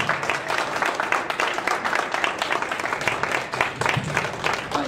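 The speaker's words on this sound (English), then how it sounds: "So let's give them another round of applause." Sustained applause from an audience, dense clapping that keeps a steady roar throughout with no pauses.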